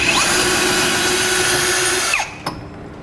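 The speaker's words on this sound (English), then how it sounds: "This is a fairly difficult metal to drill through, this cross member." A power drill with a 9/16-inch bit bores through a tough steel cross member under a 2016 Ram 2500 pickup bed, a loud steady whine that cuts off after about two seconds, followed by a small clunk.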